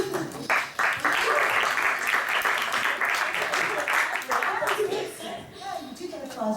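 Audience at a Eurovision meet-and-greet clapping for an Irish singer, brisk close applause that builds, holds and then tapers off, with talk over the end.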